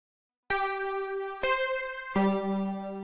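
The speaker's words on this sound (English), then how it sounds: "So it almost has this sort of glassy keyboard sound." A glassy digital keyboard patch, Saturn Tines 2 on Saturn 6, plays three clean struck notes, the last a fuller chord, each ringing with bright overtones in an otherwise quiet space.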